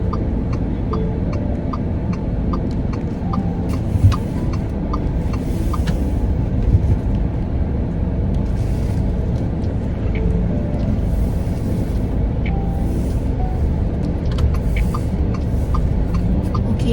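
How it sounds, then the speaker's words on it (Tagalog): Car interior as the vehicle pulls away and drives on, a steady engine and road hum with faint clicking, no talk. "Nandito na tayo sa car. Paalis na tayo."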